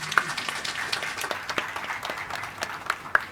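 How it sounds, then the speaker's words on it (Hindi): Clapping from a church congregation at a birthday celebration service, a scattered patter of hands with a few sharper claps standing out, moderately distant and fairly steady throughout. "जोरदार तालियां हो जाए।"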